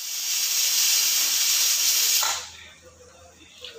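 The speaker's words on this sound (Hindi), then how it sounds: "बस एक सीटी लग गई है" A loud, sustained steam hiss from a pressure cooker whistle cooking chana chicken keema cuts off abruptly after about two seconds, leaving a quiet background with a faint low hum.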